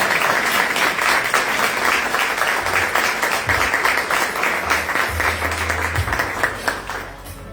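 An audience at an alumni award ceremony applauds an honoree with sustained, dense clapping throughout that tapers off at the very end.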